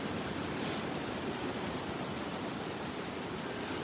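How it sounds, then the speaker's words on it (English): A strong storm wind gust roars as a steady broadband rush of air, loud and unbroken for a few seconds with no voices. "Here comes another gust."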